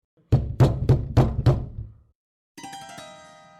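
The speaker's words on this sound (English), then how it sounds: "She knocked on the door." Five evenly spaced knocks on a door, close and firm, followed after a short pause by a sustained ringing tone.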